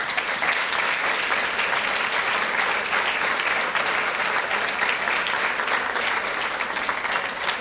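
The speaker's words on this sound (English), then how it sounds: "I hope you'll give us a warm applause for our 5th member to be inducted in tonight" An audience at a journalism, advertising and public relations Hall of Fame induction applauds an inductee with sustained, even clapping from a large room, continuous and full throughout.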